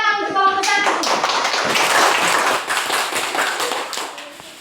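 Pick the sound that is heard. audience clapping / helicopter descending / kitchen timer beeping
audience clapping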